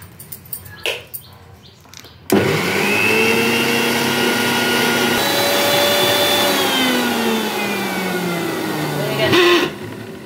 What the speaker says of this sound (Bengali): এটা এখন আমি মিক্সিতে বেটে নেব।